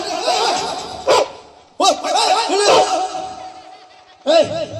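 A dog barking and yipping in loud, close bursts during a comic Kabir Lila stage performance, with voices mixed in among the barks.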